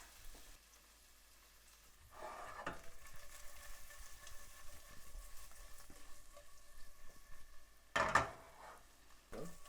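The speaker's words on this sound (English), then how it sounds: "let them just coat in the oil and get a little toasted" Quinoa toasting with paneer cubes in hot oil gives a quiet, steady sizzle broken by a few stirring scrapes and one sharp clatter near the end, with no voices.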